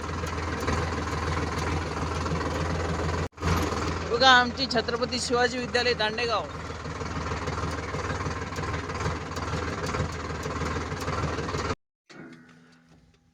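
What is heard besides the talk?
tractor engine running while driving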